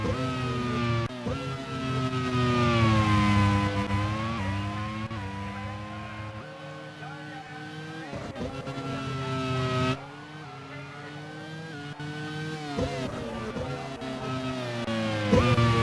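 Race cars at the Poznan Grand Prix roar past at high revs, engines rising and falling through gear changes as one car overtakes another, loud and sustained with brief dips between passes.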